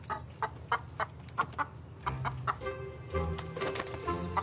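A chicken clucks in short, repeated bursts, close and fairly loud, with some rustling or wing movement alongside.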